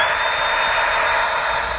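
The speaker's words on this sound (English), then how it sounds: "I'm going to drill through the frame till we get to that hole on the other side." Power drill with a small bit boring through a 2018 Jeep frame, a steady high whine held evenly for about two seconds with no speech.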